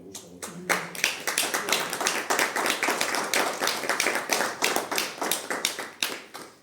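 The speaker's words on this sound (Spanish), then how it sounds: "Y pido un pequeño aplauso para la ciudad de La Habana" Short burst of audience clapping at a poetry reading, close and crisp with distinct individual claps that rise quickly, then sustain at a lively pace and thin out toward the end.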